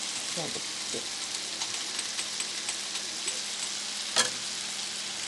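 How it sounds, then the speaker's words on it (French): Sausages fry in a pan with a steady broadband sizzle throughout, punctuated by a few brief clinks and scrapes and one sharper knock near the end; a faint voice murmurs briefly early on. "Je suis en train de faire cuire les saucisses là que j'ai acheté ce matin pour ce soir."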